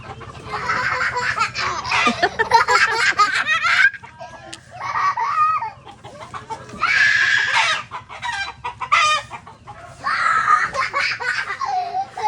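Chickens cluck loudly and close by in repeated bursts, with short pauses between, over a low steady hum.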